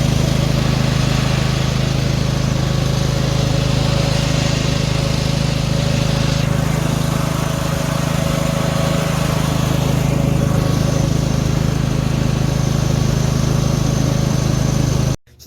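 An MTD Yard Machines 13/38 riding mower engine runs continuously on old, stale gasoline, a loud close steady drone with a strong low hum throughout, slightly uneven, cutting off abruptly at the very end.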